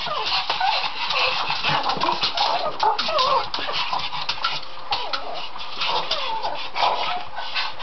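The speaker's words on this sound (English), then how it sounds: "Isn't that a cute dog?" A dog whimpers and whines in high, wavering cries, close and fairly loud, repeating throughout with rustling around it.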